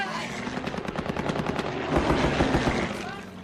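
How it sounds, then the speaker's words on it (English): Aircraft bombing and machine-gun strafing runs during the Vietnam War battle of Lang Vei near Khe Sanh: dense rattling bursts of rapid automatic fire over a heavy rumbling backdrop, loud and continuous, with engine roar and voices mixed in. "The aircraft made 3 heavy bombing and strafing runs."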